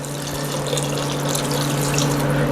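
Water pours steadily into a pot on the stove while pork and beans are cooked with ground mustard, giving a constant, close rushing splash with no talking.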